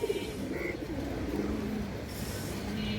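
Pigeons coo softly near a large female pigeon offered for sale, with low repeated rolling calls over a constant murmur of background noise.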